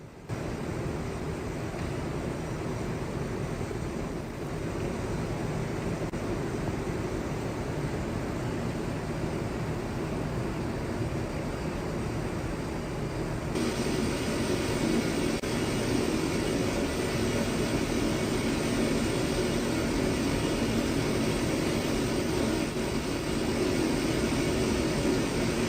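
Burkina Faso army military aircraft drone overhead at the start of an attack, a continuous, even roar of broadband jet noise that holds steady at moderate loudness for the whole stretch, rising slightly partway through, with no voices.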